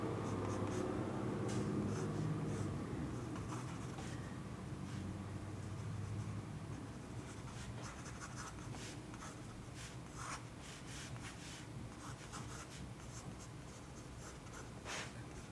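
Steady scratching of a fountain pen nib drawing on paper, close and quiet, continuous strokes with brief lifts and shifts in pressure, no talking.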